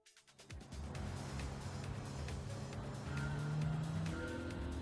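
A Peugeot 208 GTI in Gran Turismo 7 starts off and drives with a steady engine drone that builds slightly, with a brief rising tone and faint tire noise, close and continuous.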